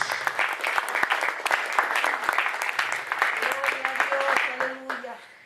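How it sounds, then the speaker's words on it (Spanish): Dense applause from a church congregation during a sermon fills the whole stretch, steady and fairly loud, with a sustained tone rising near the end as it fades. "Un aplauso a Jesús en esta hora."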